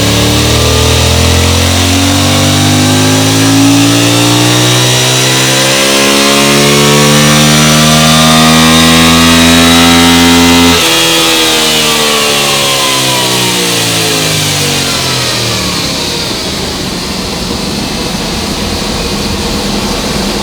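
A Yamaha R7 motorcycle engine revs hard on a dyno, its loud note rising steadily through the gears for about ten seconds before dropping off and winding down.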